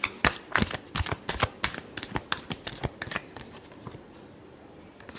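Tarot cards are shuffled in a quick run of crisp riffling snaps and flutters, close and clear, that slow and fade out near the end.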